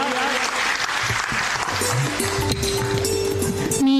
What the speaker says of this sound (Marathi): सर्वांनी पुन्हा एकदा जोरदार टाळ्या वाजवून त्यांचं स्वागत करूया.